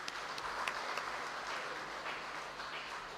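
Faint, distant applause from a church congregation during a Mass installing a parish priest, a soft continuous patter of hands in a reverberant hall.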